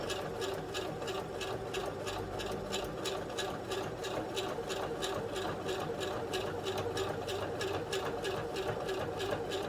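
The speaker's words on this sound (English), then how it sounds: "Go a little bit slower here because top stitching." A sewing machine runs steadily while top stitching a bag, a continuous fast mechanical rattle with regular needle clicks, close and even in level throughout, with no talking.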